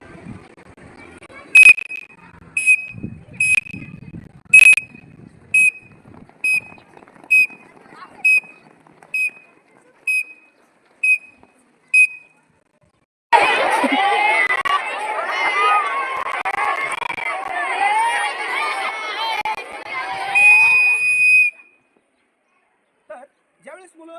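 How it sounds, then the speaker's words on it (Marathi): A scout whistle gives a series of short, sharp, shrill blasts in a steady rhythm, followed by a long burst of loud crowd noise as children gather, then a final brief whistle tone. "तीन वेळा आपण जर आखूड शिट्टी वाजवली तर ती इथं जमा होत असतात"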